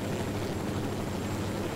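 A helicopter in the video game Ghost Recon Wildlands gives a low, steady rotor and engine drone, constant and fairly faint, with no talk over it.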